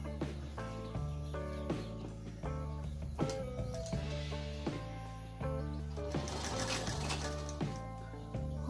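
A sewing machine stitches double piping on fabric. Its rapid mechanical whir runs in bursts, starting and stopping several times. It sounds close and steady, with faint background chirps.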